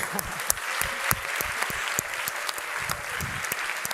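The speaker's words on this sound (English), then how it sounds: "Give yourselves a round of applause" An audience at a summit main stage applauds steadily, a dense wash of many hands clapping with scattered louder claps standing out, sustained at an even level throughout.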